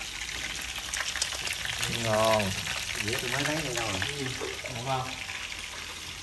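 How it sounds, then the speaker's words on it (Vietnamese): Food fries in a pan with a constant close crackling sizzle, while people talk over it. "Nay mình chiên cả nhà ơi."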